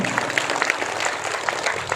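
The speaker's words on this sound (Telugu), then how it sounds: "గట్టిగా చప్పట్లు కొట్టి వారిని అభినందిద్దామా?" A church retreat audience claps for the centre director and team. The applause is a dense, steady patter throughout, with some voices mixed in.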